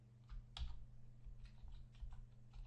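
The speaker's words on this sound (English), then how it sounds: "I will type in my first name" Faint computer keyboard typing while filling in a first name field on an online form, a handful of soft, uneven key taps over a steady low electrical hum, quiet and alone.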